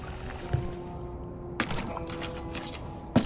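Water from a bucket of contaminated water pours in the Crime Scene Cleaner video game, a steady close wash of liquid with a few sharper splashy bursts on top, no voices.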